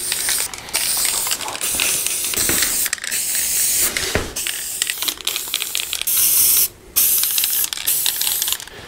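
An aerosol can sprays graphite paint in repeated hissing bursts, close up, with short pauses and small mechanical clicks between sprays.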